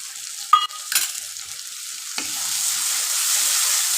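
Spices sautéing for a tangra fish curry: a steady hiss of frying runs throughout, broken early by a few sharp spoon-and-pan scrapes and a later clink, with no talk.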